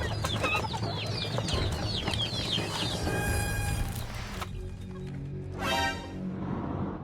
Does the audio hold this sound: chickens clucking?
yes